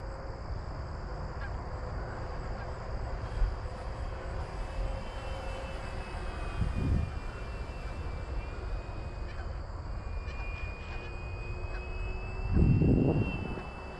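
A small engine drones steadily in the distance as an FMS Corsair 1700mm V3 model plane flies on its maiden flight, with a faint rising whine and brief louder rumbles near the middle and end.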